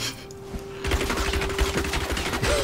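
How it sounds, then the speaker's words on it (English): Rapid machine-gun fire from the Diablo 3 video game, a dense continuous burst that starts abruptly after a quiet moment and rattles on loudly to the end. "Yeah, machine gun him."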